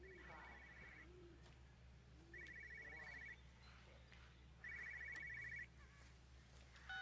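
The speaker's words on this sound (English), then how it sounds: "So there's a phone ringing." A telephone rings in the village of the video game Everybody's Gone To The Rapture: three bursts of a trilling electronic bell, each about a second long, spaced evenly over a steady low hum with quiet ambient sounds between them.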